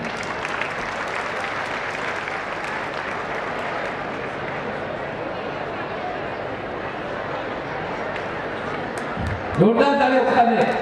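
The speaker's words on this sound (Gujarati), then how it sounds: "જોરદાર તાળીઓ સાથે આપણી સમાજની ઓળખ માનનીય નીતિનભાઈને આપણે અર્પિત કરી છે." Loud, steady applause from a large crowd at a community gathering honoring a deputy chief minister, sustained across the whole stretch with a surge of louder clapping and movement near the end.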